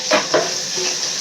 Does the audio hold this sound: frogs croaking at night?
no